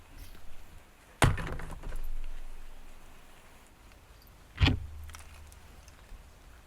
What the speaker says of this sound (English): I heard someone close a door. Like a car door.